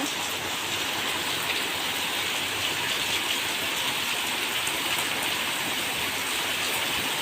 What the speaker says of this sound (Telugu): వర్షం చూడండి అసలు ఫుల్ వర్షము చూడండి